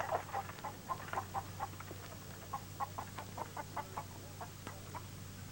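Chickens cluck in a run of short, regular bursts at moderate distance, over a faint low steady hum, with no speech.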